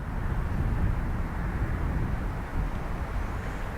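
An ATR turboprop airplane on approach at Dublin Airport produces a steady, broad droning roar at moderate distance, continuous and unbroken with no talk.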